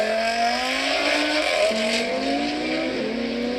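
A race car on the Horse Thief Mile track, a four-door sedan with a strong engine, howls loudly through rising and falling gear changes while its tires squeal, a continuous close engine note throughout.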